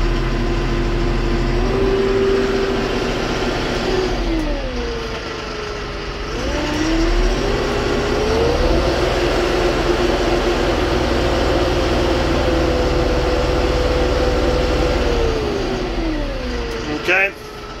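A Mahindra 2660 cab tractor engine rises and falls in pitch as its throttle is worked, several smooth revs swelling and easing back over a steady idle, loud and close, with someone talking over it.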